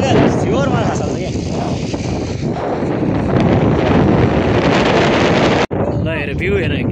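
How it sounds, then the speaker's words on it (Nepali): Strong wind roars continuously across a high Mustang viewpoint, buffeting the microphone with loud, steady rumbling for the whole stretch, while voices talk over it. "कति हावा चलेको"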